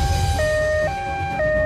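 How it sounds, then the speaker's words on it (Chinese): An ambulance siren wailing nearby, a loud two-tone alternating pattern switching pitch roughly every half second over a low rumbling background. "救护车来了！"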